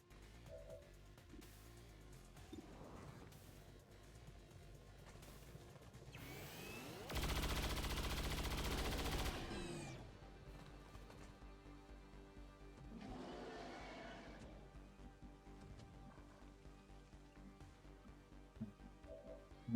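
Gunfire in the XCOM 2 Long War of the Chosen video game, heard as a sustained loud rattling burst lasting a couple of seconds amid quieter scattered clicks and effects, with no talking.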